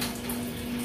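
Tap water runs steadily from a pump-fed line with a pressure tank in a home power setup, a continuous even hiss and splash close by, with a faint steady hum underneath and no talking.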